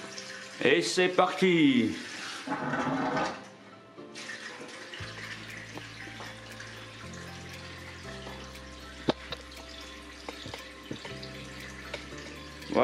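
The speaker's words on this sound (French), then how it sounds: "je vais brancher de l'eau, la pompe" Pump pushing osmosis water into an aquarium tank, a low steady hum with trickling water after an opening burst of splashing and a short spoken line, moderately faint and continuous.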